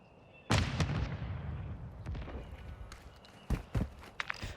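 A Semtex grenade lands in a video game and detonates with a sudden loud blast, then a rumbling tail, followed by a few more sharp bangs and thuds nearby.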